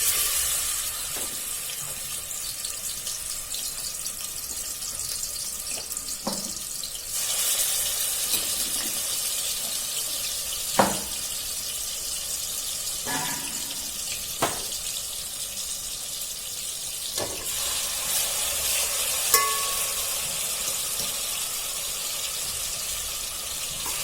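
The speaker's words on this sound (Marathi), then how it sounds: "आता आपण हे चिकन घालून घेऊया." Chicken sizzles in hot ghee for biryani, producing a continuous hiss with occasional sharp spatters and pops, close and steady, swelling louder partway through.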